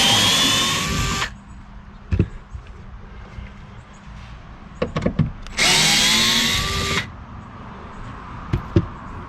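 A power drill backs Torx screws out of the rear wiper assembly on a 2011 Audi Q7, whirring in two loud bursts of about a second each, with small clicks and handling knocks between them.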